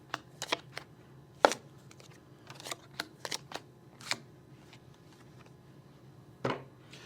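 Playing cards from a double deck are dealt for blackjack, giving soft sharp flicks and snaps at irregular intervals against a quiet background.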